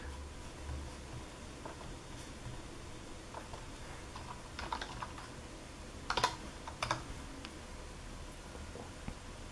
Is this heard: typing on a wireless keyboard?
yes